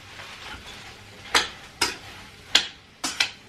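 Chickpeas in tomato sauce with olive oil are stirred in a pan on a still-hot hob: a faint sizzle underneath, broken by five or six sharp spoon scrapes and clacks at irregular intervals, close up and without speech.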